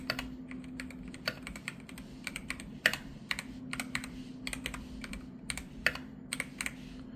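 Keys clack steadily on a computer keyboard with freshly cleaned keycaps, typed one-handed in uneven bursts of sharp, close taps over a low steady hum.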